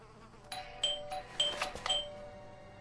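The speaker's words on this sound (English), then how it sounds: "I thought I should use the doorbell so I wouldn't startle you." Doorbell chime in the detective video game Blues and Bullets: a few soft, bright ringing tones spaced across a couple of seconds, faint against a quiet background.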